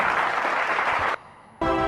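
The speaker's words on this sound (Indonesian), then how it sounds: "Beri tepuk tangan yang meriah untuk peserta dengan nomor 57." A studio audience at a presenter audition claps loudly, then the clapping cuts out abruptly before a brief burst of a different, tonal sound.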